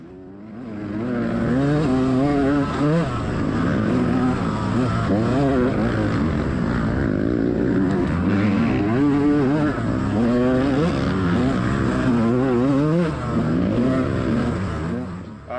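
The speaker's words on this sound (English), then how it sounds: "So I hear a 4-stroke behind me." A dirt bike engine drones steadily during a GNCC off-road race, rising and falling in pitch as it revs, with a four-stroke motorcycle engine joining from behind and growing louder.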